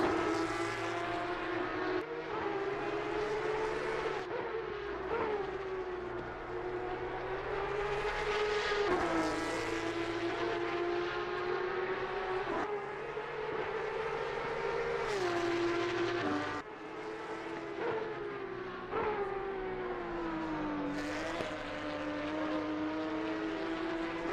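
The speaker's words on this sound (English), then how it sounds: "The noise these cars make are ridiculous" Loud, continuous engine roar of Porsche Cup race cars at Brands Hatch, pitch rising and falling as they rev and shift gears, with no pauses.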